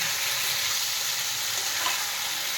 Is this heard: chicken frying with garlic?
yes